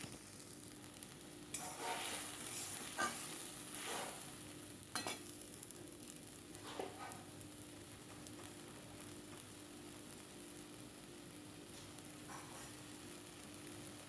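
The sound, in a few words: spice paste frying and being stirred in a pan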